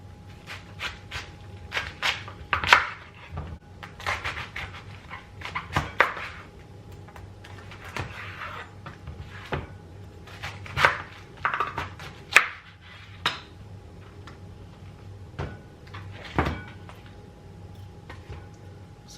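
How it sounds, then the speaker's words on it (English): A knife chops cabbage on a cutting board in irregular, sharp close taps spread throughout, with faint background noise between cuts. "you can go ahead and cut your cabbage in your desired size."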